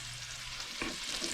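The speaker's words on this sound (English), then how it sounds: "you can see the speckled trout sauteing in there" Speckled trout sautés in a pan, giving a brief, faint, steady sizzle with a short scrape partway through.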